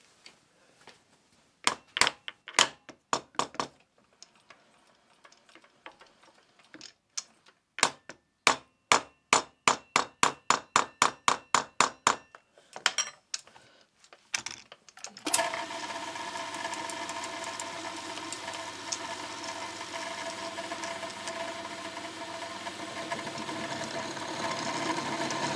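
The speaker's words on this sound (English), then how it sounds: "But being as I've got it in milling now, I'll just take a light cut across." A milling machine takes a light cut on a keeper for a small steam locomotive. Sharp, rapid ticks and clanks come in bursts during setup, then the cut begins as a continuous, moderately loud mechanical whir.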